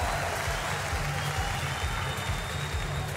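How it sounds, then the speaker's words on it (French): At a Trackmania esports cup final, an audience applauds in a dense, steady wash of clapping, sustained and fairly loud throughout, with a low droning undertone beneath it. "Un tonnerre d'applaudissements pour Bren!"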